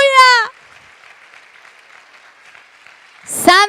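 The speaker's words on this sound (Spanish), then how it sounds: "Dale la gloria y dale un fuerte aplauso al Rey." A church congregation claps during a Spanish-language worship service, softer sustained applause heard between loud exclamations from a voice at the start and end.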